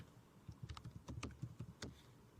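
Python code is typed on a computer keyboard, a quiet patter of uneven keystrokes with a few louder clacks, heard close and alone.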